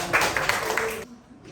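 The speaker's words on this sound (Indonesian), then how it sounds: "berikan tepuk tangan untuk kelompok." A classroom of students claps together for a group, a short burst of brisk clapping lasting about a second that cuts off abruptly into near silence.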